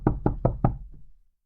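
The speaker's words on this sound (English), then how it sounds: "There was a knock at his door." Four quick, evenly spaced knocks on an office door, close and solid, followed by a fainter fifth tap. The knocks fade into silence.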